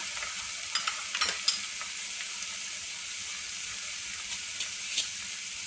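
Onion frying in a pan for a traditional Tunisian mallow dish, a soft, steady hiss of oil with occasional small spatters and clicks, close but fairly quiet.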